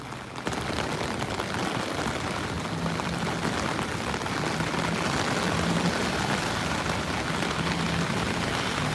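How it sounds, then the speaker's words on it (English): Heavy rain from Tropical Storm Fay pours steadily in New York City, a dense, constant hiss of drops without letup and no voices. "the rain is incredibly heavy right now"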